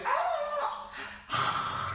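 Children imitating a lion's roar during a yoga breathing exercise: two drawn-out, growling roars, the second starting after a brief pause, loud and near.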